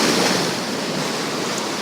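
Waves and swell surging against a rocky shore as the tide rises toward high water, a steady, broad roaring wash with wind noise throughout and no voices.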